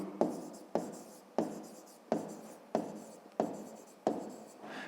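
Pen strokes on paper during a 5th-grade maths exercise, about seven scratchy writing strokes in a steady rhythm, close and clear with no talking.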